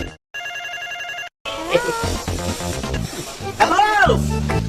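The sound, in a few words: phone ringing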